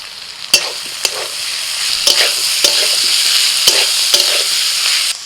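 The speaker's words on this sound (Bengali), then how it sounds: "আলুর সাথে পেঁয়াজ টমেটোটাকেও ভালো করে এইভাবে ভেজে নেবে" Potato, onion and tomato fry with ginger-garlic-green chili paste in a pan, giving a loud, steady sizzle broken by sharp clicks of a spoon stirring against the pan at irregular intervals.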